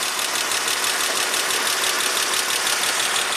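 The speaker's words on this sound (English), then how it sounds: "there goes the air pump" A Chrysler Crossfire engine running rough after sitting for a year, with its air pump whirring: a loud, steady, dense engine drone with a faint knocking texture, close by and continuous, no voices.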